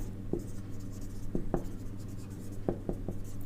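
Chalk tapping and scraping on a board during a Hindi calculus lecture on limits and continuity, a series of short sharp strokes in uneven bursts over a steady low hum, with no talking.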